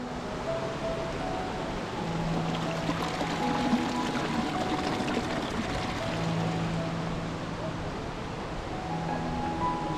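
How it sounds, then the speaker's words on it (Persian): Water pours and splashes steadily from a waterfall at Band-e Amir lake in Bamyan, Afghanistan, a constant close rushing wash with no pauses. "شرشر آب"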